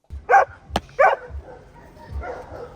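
Six-month-old Doberman puppy giving two close, sharp barks with a snap or click between them, followed by quieter whining yips.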